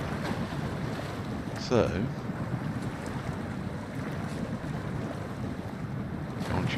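A truck ploughs through deep water in the off-road driving game Snowrunner, with a steady loud churning and splashing rush throughout and a brief spoken word near the start.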